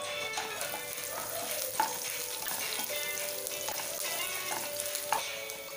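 Chopped garlic frying in hot oil in a kadai for veg manchurian gravy, a steady close sizzle with crackling pops running throughout, no talking.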